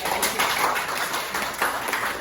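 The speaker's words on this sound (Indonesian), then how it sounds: "Beri tepuk tangan dulu buat kita" Clapping from a small group of students in a classroom during a micro-teaching practice session, a soft, scattered patter of hands that continues steadily for a couple of seconds.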